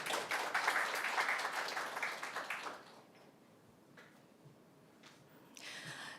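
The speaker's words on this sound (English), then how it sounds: "Please welcome her with a big applause." Conference audience at a sustainability student event giving applause to welcome a speaker, a few seconds of steady, fairly soft clapping that fades into a quiet room, with faint later sounds.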